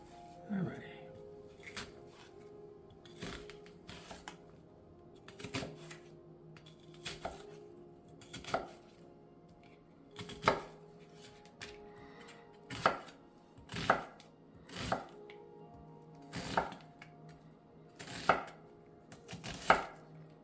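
Knife chopping a red onion on a cutting board, a series of crisp, close knocks coming sporadically at first, then faster and more regular, with someone talking quietly between the cuts.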